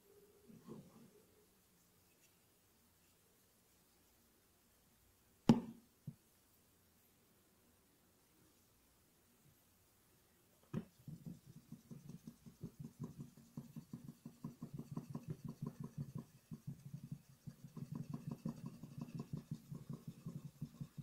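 Knife blade scratching the body of an HTC One A9 smartphone, first a couple of sharp isolated scrapes, then a long stretch of fine, rapid, close scratching friction that grows steadily denser, quiet overall and with no talking.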